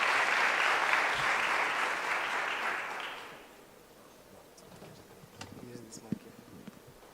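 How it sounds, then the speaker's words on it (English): An audience at a student entrepreneurship event applauds loudly and steadily for about three seconds, then the clapping fades away, leaving scattered room noise, a few stray claps and faint movement. "Can you give them another round of applause as they make their way?"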